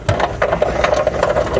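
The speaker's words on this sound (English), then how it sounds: "1/4-inch nut driver. Let's get this thing a little loose so we can get up behind there." A 1/4-inch nut driver loosening the fastener on a Mopar glove box: a close, continuous rapid ratcheting rattle that runs through the whole short stretch.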